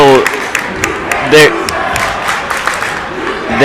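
A home crowd at a high school boys' varsity basketball game roars and cheers over a foul call, a dense, sustained wash of voices and whoops with a brief louder swell, talk mixed in.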